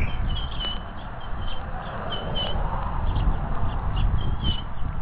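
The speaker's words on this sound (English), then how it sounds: "I have to get a good view of the tree the birds are in." Birds up in a tree call with repeated high chirps and squawks, fairly faint and distant over a steady broad outdoor background noise.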